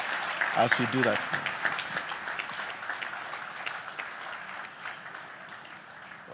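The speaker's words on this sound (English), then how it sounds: "A round of applause as we" Audience applause fills a seminar room on tax and business compliance, a steady wash of many hands clapping that continues throughout, with a presenter's voice briefly heard over it near the start.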